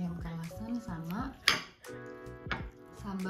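A metal spoon clinks and scrapes against a plate while someone eats ayam kalasan with sambal, giving a few sharp taps and a louder clack amid close conversation.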